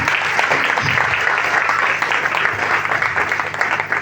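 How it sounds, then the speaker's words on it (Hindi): A hotel training event audience applauds a leader, a loud, thick wash of many hands clapping at once that holds steady throughout, close and unbroken. "हमारे रूबी स्टार लीडर अर्चना मैम के लिए एक जोरदार ताली जाए"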